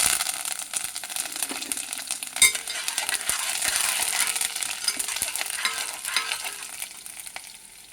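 Whole spices and curry leaves tempering in hot oil for Andhra majiga pulusu, a steady close crackling sizzle with stirring scrapes and one sharp pop midway, no talk.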